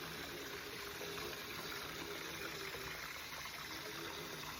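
Running well water gushes steadily over mixed salad greens being rinsed in a second wash, a constant even rush with no talk.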